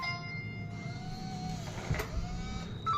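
Europa P2-A smart door lock motor whirring steadily as it unlocks, a continuous mechanical hum with a brief clunk near the end, heard up close without speech.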